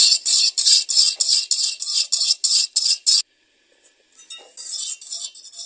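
Rhythmic scraping and clinking of a spoon stirring vanilla custard as it cooks in a pan, about a dozen quick strokes, then a brief silence before slower stirring resumes.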